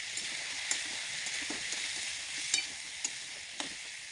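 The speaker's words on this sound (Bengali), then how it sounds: "চিকেনটা দিয়ে দিলাম, এবার ভালো করে নাড়বো।" Chicken pieces frying with turmeric in a pan, a steady bright sizzle with several scraping knocks of a spoon stirring through the meat, close and alone without talk.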